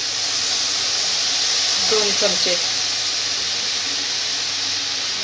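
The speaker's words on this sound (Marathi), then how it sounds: "हे उकळायला लागलेलं दूध आपण त्यात टाकून घ्यायचं" Hot milk poured into a hot pan of browned ingredients for basundi gives a steady broad sizzling hiss, while a voice speaks briefly partway through.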